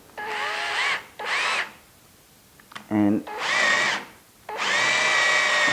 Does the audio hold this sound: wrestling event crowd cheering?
no